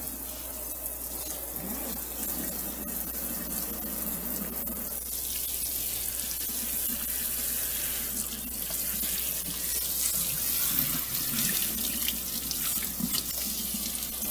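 A sink tap runs in a continuous loud gush as water rinses through hair during an at-home perm, steady and close with no talking.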